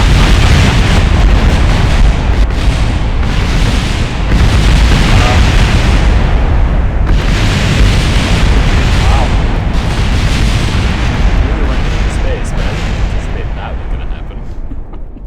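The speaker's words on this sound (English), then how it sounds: "Frame rate was beautiful during the explosion" A huge explosion of a thousands-of-parts craft in Kerbal Space Program 1.2, with loud continuous roaring blasts and booming rumbles that fill the whole stretch and fade slightly at the end.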